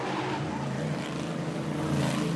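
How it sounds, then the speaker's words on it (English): A race car slides out of turn three on a circuit, its engine roaring with a steady tire scrub, loud and continuous. "that was a pretty bold slide from Francois Bernier out of turn number 3"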